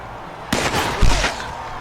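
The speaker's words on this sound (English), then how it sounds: "the crossbows are shooting like black powder rifles" Crossbows fire in the Mount & Blade Warband video game with a sharp cracking report like black powder rifles, one sudden loud burst followed by a second heavier boom about half a second later.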